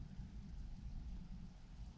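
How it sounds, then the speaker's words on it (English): Steady rain pours outdoors during a storm, a dense, continuous low rumbling wash that stays even and close throughout with no voices over it. "Y'all hear the rain in the background, right? It's been storming like a lot these last little minutes."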